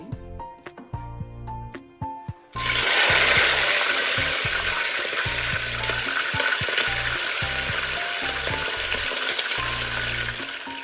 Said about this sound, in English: So we're done frying our chicken.